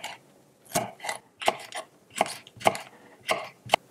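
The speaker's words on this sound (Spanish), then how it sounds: "Picamos el pimiento rojo y el verde" A knife chops red and green peppers on a board, about seven crisp, close cuts at an uneven pace with quiet gaps between them and no talking.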